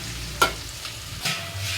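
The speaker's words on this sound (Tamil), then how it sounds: "அதுக்கப்புறம் வெங்காயம் போட்டு நல்லா வதக்கிக்கிறேன்" Onions sizzle in hot oil for a spicy potato stir-fry, with a few sharp scrapes of a spoon stirring the pan close by.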